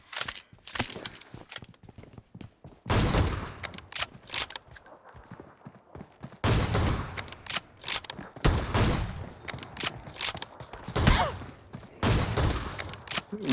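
Shotgun fire in a one-on-one video game match comes in loud, clustered bursts separated by brief quiet gaps, with mechanical clicks like weapon reloading between the volleys.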